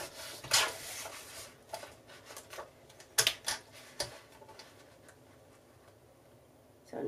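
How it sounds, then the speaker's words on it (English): Scissors or a trimmer snip and rub along the edge of a card-making piece of paper, giving short scraping cuts and small taps in an irregular rhythm, close and quiet. "And I'll just trim that edge down."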